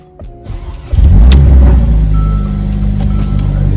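A car engine cranks briefly and catches, then settles into a loud, steady idle close by with a low rumble, with no talking.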